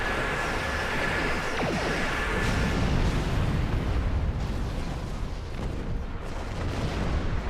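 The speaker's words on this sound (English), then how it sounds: "they decided to fire off that cannon barrage" Cannon barrage explosions in the video game Star Trek Online, a dense continuous rumble of booms and bursts blending into a loud sustained roar with no pauses.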